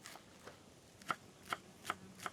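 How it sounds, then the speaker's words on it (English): A knife dices cilantro roots on a cutting board in a Vietnamese-style cooking session, giving a series of quiet, sharp taps, sparse at first and then settling into a regular rhythm of about four clicks. "the cilantro roots are actually really good to cook with"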